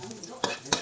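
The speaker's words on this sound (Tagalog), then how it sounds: "Ayun, ilagay natin ang bawang." Garlic dropped into hot cooking oil sizzles close by with a steady crackling hiss, broken by two sharp bursts of spattering noise, with no talk over it.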